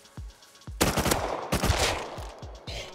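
Rapid gunfire from the survival video game Rust, several sharp close shots then dense bursts of automatic fire with short gaps, loud and alone.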